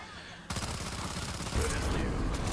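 Gunfire in the video game Ashes of the Damned, a rapid steady stream of shots that keeps going without a break, loud and close, with a voice faintly under it.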